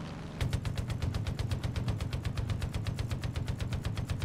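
Sustained burst of a .50 cal heavy machine gun in the Far Cry 5 video game, dozens of rapid, evenly spaced booming shots in a steady rhythm, loud and close, no talking.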